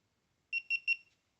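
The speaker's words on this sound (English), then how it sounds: "It's going to make that beeping noise." Three quick, high electronic beeps in a row from a GoPro Hero 3 powering on, clean and close, then silence.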